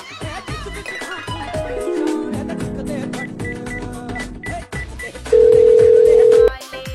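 A phone rings with an incoming call, a steady electronic tone held for about a second near the end. It follows a busy stretch of clattering and tonal sounds, and no one speaks over it.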